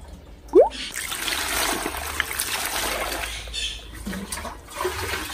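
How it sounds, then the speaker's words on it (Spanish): Water poured into a cooking pot while making candied squash in syrup, a splashing, trickling flow that starts with a sharp splash and continues steadily and close, with no talk. "Chale agua."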